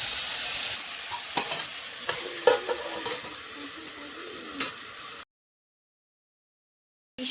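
Food frying in a pan with salt and turmeric, a steady sizzle broken by several sharp scrapes and clicks of stirring, close and fairly loud, followed by a couple of seconds of silence before the sizzle briefly returns.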